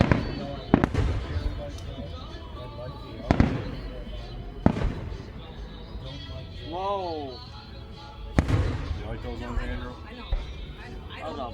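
Fireworks go off in a backyard evening display, several sharp booms spread out across the stretch. Between the bursts people chat and exclaim nearby.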